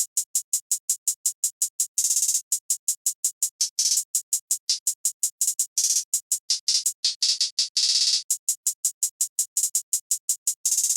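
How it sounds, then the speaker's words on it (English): A programmed drum-kit hi-hat pattern ticks in fast, crisp, bright hits, with quick rolled bursts breaking up the steady rhythm, playing alone throughout. "the hi-hat pattern is sounding like this"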